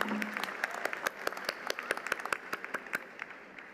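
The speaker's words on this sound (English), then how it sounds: "a huge round of applause for the Bachelor of Science in Exercise Physiology graduates" Applause from a commencement audience at the 2022 University of the Sciences ceremony, honouring exercise physiology graduates: a distant hall of scattered, fairly faint clapping with sharper individual claps standing out, gradually thinning.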